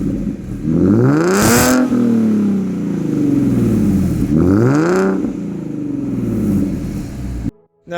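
A 2016 Ford Mustang V6 with Borla Stinger exhaust revs up close, two loud rising-and-falling throttle blips in a deep growling drone that idles between them and cuts off sharply at the end.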